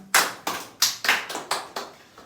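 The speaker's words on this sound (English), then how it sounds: "On this occasion, we will clap first of all once." A person clapping hands, seven sharp separate claps in an uneven rhythm, close and crisp with quiet gaps between, the last one softer.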